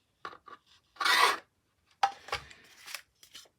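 Scribing a line along a part for a 1/4-scale speeder bike build, heard as a few short scratchy strokes and one longer rasping drag, close and fairly quiet, with no talk.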